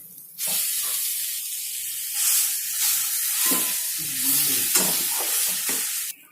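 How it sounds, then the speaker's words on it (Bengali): Soya chunks, boiled potato and turmeric being stirred together in a hot pan for soya aloo tikki, a steady close sizzle and hiss with repeated scraping of the spoon against the pan. "সোয়াবিনটা দিয়ে দেবো, একসাথে মিলিয়ে নেব।"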